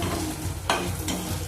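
Chickpeas and paneer frying in a pan, a steady sizzling hiss with a couple of sharp scraping strokes as the food is stirred, close and fairly loud, no talking.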